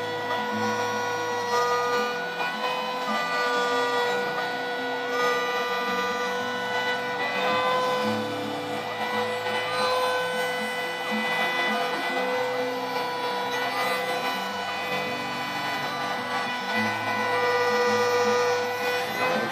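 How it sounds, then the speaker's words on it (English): A DIY CNC router cutting a gear from pine trim over a waste board, running a constant loud spindle whine with stepper motors whirring and changing pitch as the cutter moves through the wood. "So we've got a piece of pine trim set up in the CNC with a little bit of a waste board underneath"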